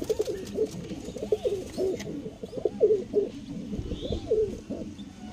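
Pigeons in a loft coo repeatedly in soft, rolling phrases, close and fairly clear, with light rustling and faint background noise.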